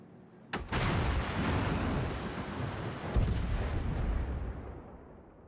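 Two heavy naval artillery booms from a World of Warships battle, one near the start and another around the three-second mark, each followed by a long rumbling roar that slowly fades.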